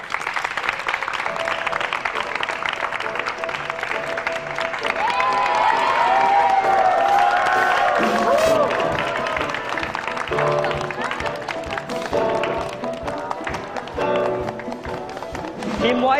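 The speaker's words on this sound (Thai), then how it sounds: "ขอเสียงปรบมือให้กับเหล่าเทรนเนอร์ของเราด้วยครับ" A live studio audience applauds and cheers for the trainers, sustained clapping and crowd noise with music, and a host speaking over it.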